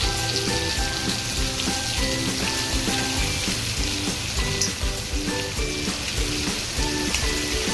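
Prawns frying in oil in a pan on a gas stove, giving a steady, loud, crackling sizzle that carries on without a break and stays close. Faint pops and spatters run through it, and no one speaks.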